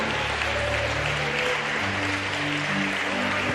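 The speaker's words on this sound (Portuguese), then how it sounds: "Você pode aplaudir o Espírito Santo." Church congregation applauding during a worship service, a continuous rush of clapping under sustained organ or keyboard tones that shift pitch midway.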